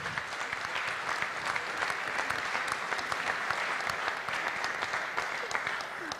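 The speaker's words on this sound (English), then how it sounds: "if we can give them a round of applause too" Banquet audience at a high school football banquet claps for the organizers, a steady, full round of applause with no voices standing out.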